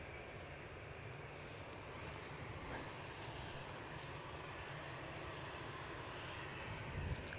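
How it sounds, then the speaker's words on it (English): A Ryanair Boeing 737 arriving at Edinburgh Airport, its engine roar a steady, moderately distant broadband rumble that holds level for several seconds and rises slightly at the end. "Ryanair 737 inbound from Poznan."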